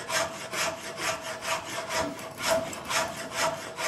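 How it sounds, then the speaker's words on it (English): A very coarse half-round rasp is pushed across wood in about eight even, rhythmic scraping strokes, each a gritty rasp of similar length, close and fairly quiet with nothing else around. "Here's a very coarse half round rasp."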